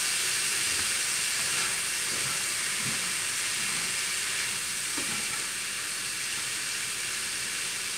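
Philly cheesesteak meat sizzles and fries on a hot cooktop with garlic salt, a steady bright hiss holding for the whole stretch with a few faint clinks underneath and no talking.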